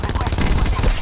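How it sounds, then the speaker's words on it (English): Light machine gun fired in Call of Duty on Nuketown, a loud rapid burst of closely spaced shots rattling steadily through the whole second with no pauses. "Right from the window with a LMG."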